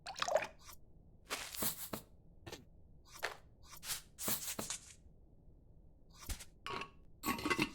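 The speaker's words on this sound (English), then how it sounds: "Let me get the water in first." Water splashes and drips into a cooking pot in the video game Venba, heard as several separate wet bursts with light clinks and quiet gaps between them.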